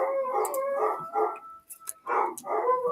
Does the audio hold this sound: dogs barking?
yes